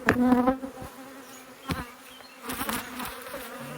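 Angry honeybees buzz loudly at a hive during mite treatment, a dense droning hum that swells near the start and again toward the end, with no talk.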